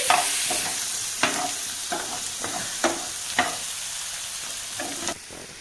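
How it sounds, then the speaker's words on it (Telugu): Onions frying in a pan for a dhaba-style paneer curry, with a constant sizzle broken by a series of sharp scraping stirs every half second or so, close and clear, no voices. "మనము ఎర్రగడ్డలు గోల్డెన్ కలర్గా వచ్చే వరకు బాగా ఫ్రై చేసుకోవాలి."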